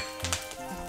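Bhavnagari chilies hit hot oil already crackling with mustard seeds, a loud close burst of sizzling and spitting that settles into a continuous fry.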